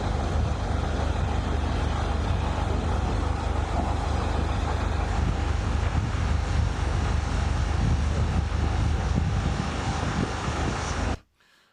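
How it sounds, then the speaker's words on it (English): A firefighting aircraft flying low over a large blaze, giving a loud, steady engine roar that fills the whole scene without a break before it cuts off abruptly at the end. "aircraft have been brought in to help extinguish it"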